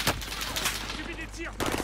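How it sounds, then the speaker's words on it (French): Gunfire in the video game Warzone on Rebirth Island: sharp shots crack close at the start and again at the end, with a player speaking in between. "ça tire de partout, je comprends."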